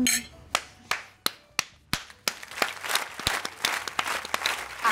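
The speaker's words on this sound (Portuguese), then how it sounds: "Palmas indianas pra você" A few people clap for a chef after tasting Indian-style chicken, starting with several sharp separate claps that quickly build into quicker, overlapping applause close by.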